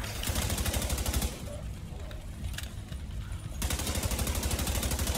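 Gunfire in The Division 2 video game, rapid automatic bursts at a fast steady rhythm, loud and dense, breaking off for a couple of seconds before resuming.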